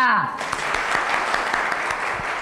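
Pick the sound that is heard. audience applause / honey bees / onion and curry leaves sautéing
audience applause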